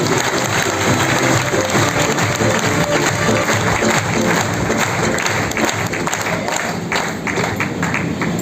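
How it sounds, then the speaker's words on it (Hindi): Dense, loud applause from a large crowd at a seminar in Gurugram fills the whole stretch, steady and continuous without a break. "एक बार जोरदार ताली"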